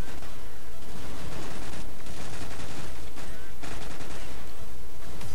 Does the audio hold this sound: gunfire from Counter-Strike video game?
yes